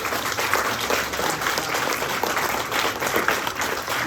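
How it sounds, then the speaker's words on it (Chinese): Warm audience applause for a doctor's speech at a summer camp event, a dense, continuous wash of clapping from many hands, steady and moderately loud throughout. "我们再给他热烈掌声"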